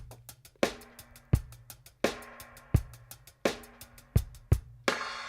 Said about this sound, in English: And I've automated the reverb so that every time there's a snare,